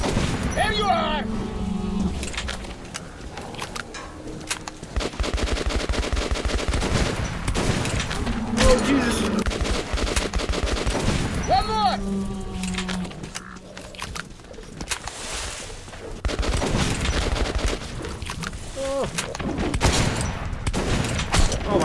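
Gunfire in the video game Metro Last Light comes as dense bursts of shots and booms across the whole stretch, mixed with game sounds and excited talking throughout.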